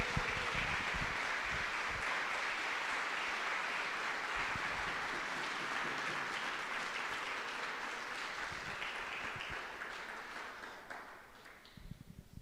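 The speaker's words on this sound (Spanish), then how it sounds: "Le podemos dar un aplauso a nuestro Señor." A church congregation claps together during a Spanish-language service, a broad steady roar of hands that holds for several seconds and then gradually thins and fades out toward the end.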